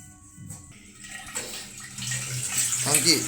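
Water runs and splashes as something is washed in a home kitchen, the stream building louder toward the end, with a voice briefly heard.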